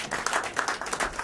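A crowd at a December award show applauds an honoree with brisk, continuous clapping, loud and close.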